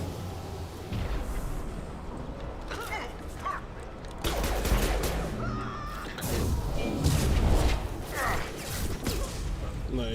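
Mass Effect 2 combat with repeated gunfire and blasts over a steady, dense backdrop of battle noise, growing heavier midway and continuing in irregular bursts throughout.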